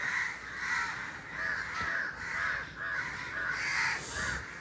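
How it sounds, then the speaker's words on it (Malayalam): A large flock of crows circles overhead, cawing in steady rhythmic bursts, loud and near, with several birds calling over one another. "കണ്ടമാനം കാക്കകൾ ഇവിടെ ഉണ്ട്"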